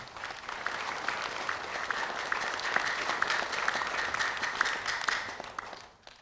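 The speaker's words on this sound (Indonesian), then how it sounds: "Kita berikan tepuk tangan untuk kita semua." The audience at a regional election debate for the Badung regency in Bali gives a sustained, even round of applause in a hall. It stays steady for about six seconds, then tapers off abruptly.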